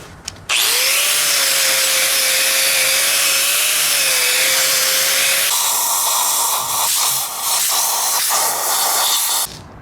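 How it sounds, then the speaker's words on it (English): A wire wheel on a power tool whines and hisses loudly against a 4.7 V8 Jeep Grand Cherokee WJ exhaust manifold, scrubbing it clean for several seconds before spinning down, followed by lighter scraping and handling noises. "So I'm gonna wire wheel this"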